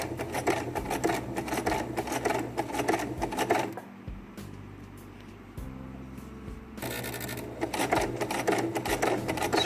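A Kenmore mini sewing machine runs in bursts while hemming a pair of pants. A steady mechanical whir and rapid needle chatter stop for a few seconds in the middle, then start again loudly.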